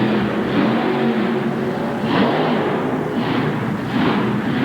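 A monster truck engine with fuel problems roars at a 1988 arena event in St. Paul, Minnesota, a loud, sustained, rough drone that surges and sags unevenly over crowd and arena noise.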